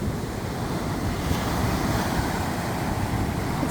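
Waves washing in on a pink sand beach in the Bahamas, a continuous soft rush of surf with wind buffeting the microphone, steady and moderately quiet, no voices.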